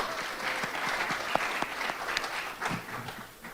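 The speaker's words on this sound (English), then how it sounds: "So here's a little bit of applause to the, yeah." An audience at a Newark Public Library event marking the Newark History Society's 20th anniversary applauds, a steady wash of clapping from a room of people with a few sharper claps standing out, fading slightly at the end.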